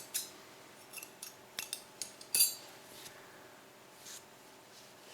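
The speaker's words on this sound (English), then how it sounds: "then I'll cut this yarn" Scissors snip through crochet yarn in a series of short, crisp cuts, close and fairly quiet, with no one talking.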